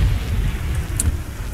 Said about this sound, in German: Der Funkmast scheint das Gewitter zu verspotten.